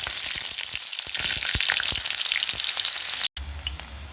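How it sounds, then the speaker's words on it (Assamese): Chopped onion frying in hot oil with whole cumin seeds, a loud, close, steady sizzle with occasional spatters and stirring, then a brief cut near the end before the sizzling carries on. "আৰু মোৰ পিঁয়াজখিনি ভজা হৈ গৈছে।"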